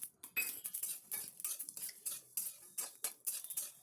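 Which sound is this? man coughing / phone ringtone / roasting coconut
roasting coconut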